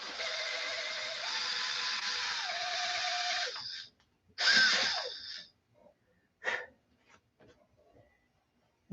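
A screwdriver spins a polishing pad, making a steady whirring buzz for several seconds that winds down, followed by a couple of short rubbing bursts and faint clicks, close up and without speech.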